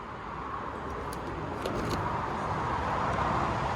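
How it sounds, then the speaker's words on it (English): Steady broadband road noise, a continuous roar of motorway traffic nearby, heard at an outdoor classic car auction preview, with no distinct vehicles standing out, slightly building toward the end. "we are right next to the motorway."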